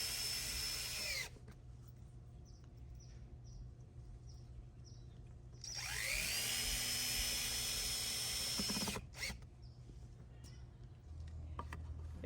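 Power drill driving screws through brackets into an outdoor grilling station in a backyard, heard in several long whirring runs with short pauses between them, close and alone.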